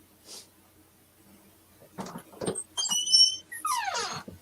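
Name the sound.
squeaking noises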